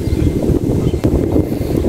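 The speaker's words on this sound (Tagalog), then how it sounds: "Ayan, lakas ang hangin guys." Strong wind blows during an outdoor road trip, a loud, steady rushing and buffeting roar against the microphone that fills the whole moment without pause.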